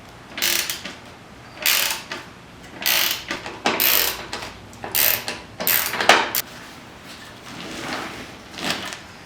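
Socket ratchet on a deep socket backing out 3/8-inch bolts from a 1979 Ford Bronco bucket seat back, with close bursts of ratcheting clicks repeating in short strokes and brief pauses between.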